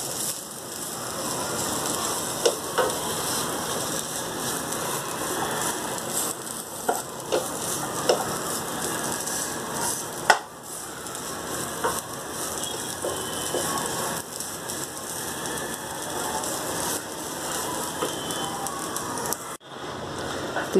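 Grated dry coconut roasting in a small amount of oil in a pan, a continuous soft sizzle with occasional scraping clicks from stirring, close and steady, with no speech.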